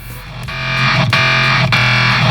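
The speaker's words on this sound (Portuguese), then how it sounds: "Aí eu coloquei essa distorção aqui, eu tirei o sub dele e coloquei mais compressão" A loud synthesized track uses a heavy guitar-style distortion effect, with the sub bass removed and extra compression. It plays as a dense, buzzing sustained tone, punctuated by sharp rhythmic hits about every half second.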